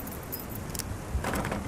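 Keys jangle and click in a door lock in the horror video game Don't! Fret, a short burst of light metallic rattling that sharpens into a few quick clacks near the end.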